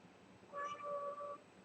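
A cat gives a single drawn-out meow, faint and steady, during a pottery live stream, with quiet room noise around it.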